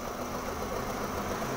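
A Renault Megane 1.6 16-valve petrol engine runs rough, giving a steady, close, low mechanical drone for a short moment.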